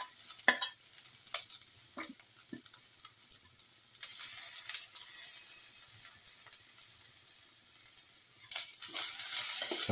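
Grated coconut is stirred in a frying pan over very low flame, soft, faint sizzling with intermittent light scrapes and taps of a spoon, steady and close.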